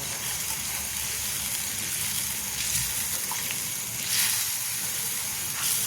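A garlic and cumin tempering fries in a pan with a steady, soft hiss and a few faint crackles throughout, with no voices.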